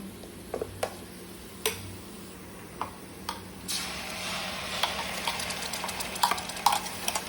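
Ground spice paste sizzles and fries in a pan with browned onion as a crab curry cooks, a steady close crackle that grows busier midway, broken by occasional sharp ticks and scrapes of a spoon.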